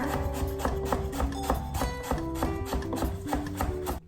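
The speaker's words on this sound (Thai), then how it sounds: "เรามาหั่น หัวหอมแดงกันเลยนะคะ" Rapid, steady knife taps on a cutting board, chopping shallots in quick rhythmic strokes close up, with no talking.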